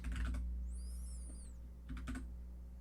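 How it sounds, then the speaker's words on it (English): Rapid bursts of computer keyboard keystrokes as a password is typed, a quick cluster at the start and another near the end, with a faint electronic tone and steady low hum between. "Type in my password."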